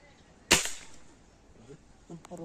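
A single sharp hunting gunshot in the wild cracks out close and loud, then trails into a fading echo, followed by faint rustling and voices.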